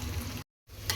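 Rice-flour bowls fry in hot oil with a steady, close bubbling sizzle that cuts out briefly partway through and then resumes.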